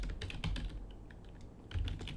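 Quiet, quick keystrokes on a computer keyboard, a steady run of close taps with a short pause midway.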